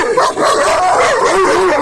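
Several dogs bark and yip excitedly at close range on a farm in a continuous, overlapping commotion.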